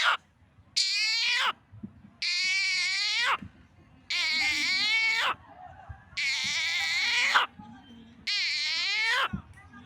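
A human voice imitates a frog calling while a snake grabs its leg, giving five loud, drawn-out wailing cries separated by short pauses, each about a second long.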